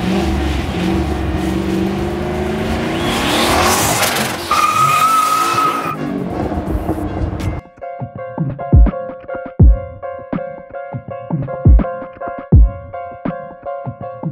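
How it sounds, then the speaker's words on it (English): Volvo 240 fitted with an LM7 turbo engine, a loud roaring rev and tire squeal at first, then a burst of sharp repeated rattling clatters with strong low thumps nearby. "blowing the tires off, it's good."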